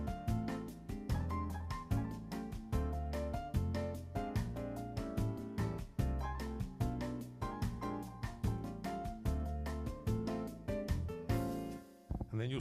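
A Yamaha Genos2 keyboard runs through its biggest, most involved intro 3, a dense, driving arrangement of drums, bass and layered chords that holds a steady beat before closing on a cymbal-washed finish.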